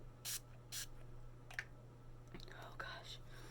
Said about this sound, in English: I'm gonna use my setting spray